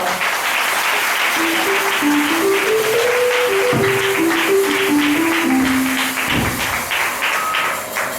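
Congregation applauding during a church service, a steady dense wash of clapping lasting throughout, with a sustained sung or hummed tone running underneath.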